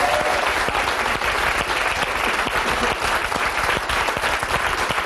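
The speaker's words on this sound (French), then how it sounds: "Allez hop, on applaudit." Audience applause in a French television show studio, dense and even clapping that stays loud and steady throughout with no talk over it.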